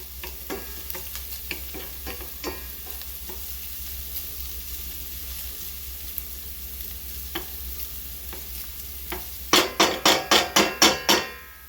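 Vegetables and beef for a beef pattie cook in a pan with a steady sizzling hiss and scattered scrapes of stirring, ending in a quick run of sharp, loud metallic taps against the pan.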